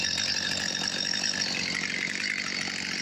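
A STIHL MS 250 C chainsaw cuts oak firewood, its engine holding a steady, loud, continuous buzz close by for the whole stretch with no talking.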